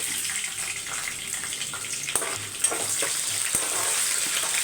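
Sesame seeds, cashews and garlic dry roast in a pan, a steady close hiss and rustle with a few sharp clicks and scrapes of a spoon stirring through, no voices.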